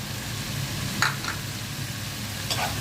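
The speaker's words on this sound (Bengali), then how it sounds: "মশলাটা কষানো হয়ে গেল এখন করলাটা দিয়ে দিচ্ছি" Bitter gourd going into hot oil with spices gives a steady, close sizzle with a couple of brief scraping stir sounds over the continuous frying hiss, no voices.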